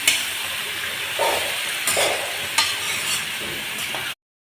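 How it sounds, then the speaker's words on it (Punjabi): Chopped pumpkin is stirred into fried onion and tomato in a pan, producing a steady sizzle broken by a few distinct scraping strokes, close and moderately loud, ending abruptly. "ਹੁਣ ਇਹਦੇ ਚ ਆਪਾਂ ਪਾਵਾਂਗੇ ਕੱਟਿਆ ਹੋਇਆ ਪੇਠਾ ਚੰਗੇ ਤਰੀਕੇ ਨਾਲ ਆਪਾਂ ਮਿਕਸ ਕਰ ਦਾਂਗੇ"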